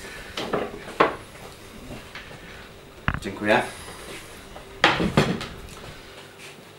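A green wooden cutting board is set down on a kitchen counter with a few sharp knocks and clatters, close and loud, and someone speaks briefly between the thuds.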